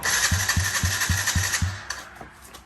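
The starter motor on a 2006-or-later Yamaha TT-R50 mini dirt bike cranks the engine in six quick, even chugging pulses over a loud whirring drone, then stops and leaves a few faint clicks.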